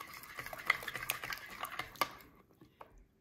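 Whole and ground spices, cumin and black pepper among them, mixed with a spoon in a bowl, a quick run of light scraping and clicking strokes, close and soft, tapering off into quiet.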